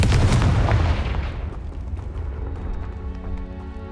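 A Confringo spell explosion in the Hogwarts Legacy video game: a loud, deep blast that bursts at once and then rumbles away over a few seconds, with no one speaking.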